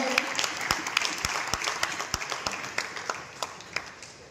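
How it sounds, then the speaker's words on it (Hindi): Scattered applause at a political party committee announcement event in Goa, with distinct individual claps ringing out over a thinner spread of clapping, moderately faint and gradually tapering. "उनको मैं आमंत्रित करूंगा जोरदार तालियों से"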